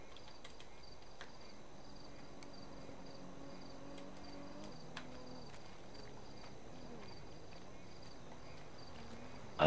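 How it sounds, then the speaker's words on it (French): Toads croak in the open-world game GTA 5, a faint, low, drawn-out chorus. It runs under a steady high insect-like chirring in a quiet night ambience, and no one speaks. "Je pense que c'est des crapauds"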